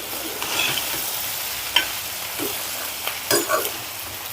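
Drumstick curry, freshly salted, is stirred in a hot pan: a steady frying sizzle broken by several scraping strokes and clatters of the spoon against the pan, with no talking.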